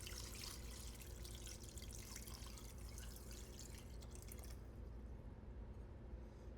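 Filtered water poured into a pot for homemade bone broth, a faint continuous splashing and trickling stream that thins out toward the end.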